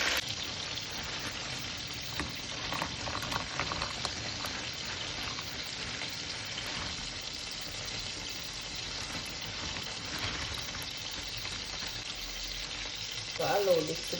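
Ackee and chicken back cook together in a pot, giving a steady close hiss and bubbling sizzle that runs throughout, with a brief clatter near the end.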